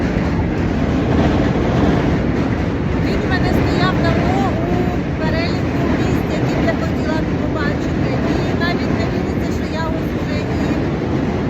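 Train rumbling across an old bridge near the Brooklyn Bridge in New York, a loud continuous roar with rhythmic clatter and squeals sustained throughout, heard from underneath.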